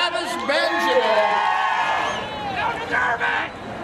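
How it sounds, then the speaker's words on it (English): Race crowd at a motorsports event cheering and whooping loudly after a third-place driver is introduced, a dense wash of voices with rising shouts and hollers, fairly near and sustained throughout. "How about a big round of applause?"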